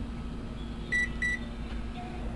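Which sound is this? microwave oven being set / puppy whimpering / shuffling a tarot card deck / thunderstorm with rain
microwave oven being set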